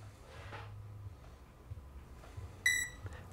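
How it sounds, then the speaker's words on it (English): A single bright electronic beep from an AI MAX electronic speed controller on full brake, sharp and tonal, rising briefly above a quiet low hum. "listen for a beep"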